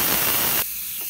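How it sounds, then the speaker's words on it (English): An Instant Pot on quick release vents steam in a loud, steady broadband hiss. It cuts off sharply after about half a second and leaves faint background noise. "we can move this to the quick release if you want to release the steam"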